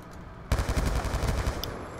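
M27 rifle in Black Ops 2 firing a rapid automatic burst of about a second, loud and close, rattling in quick succession before cutting off.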